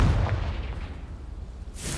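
A Confringo fire spell from Hogwarts Legacy bursts out as one loud, booming blast, then rumbles and fades before a hissing flare at the end.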